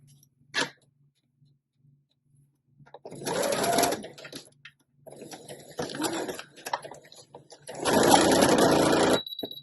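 A sewing machine stitches lace onto a junk journal pocket in short bursts of rapid mechanical whirring separated by pauses, with a brief click near the start.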